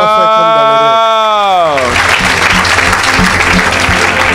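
A church congregation breaks into loud, dense clapping and cheering right after a sustained voice fades out, with people talking over the applause.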